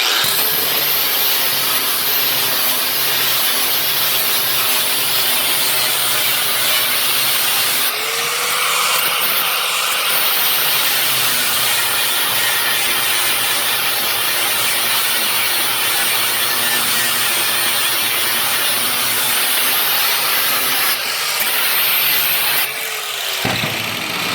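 Angle grinder smoothing and rolling the lumpy metal edges of a rat rod panel, a steady close, loud whirring grind running continuously with brief shifts in pitch as the disc works along the edge.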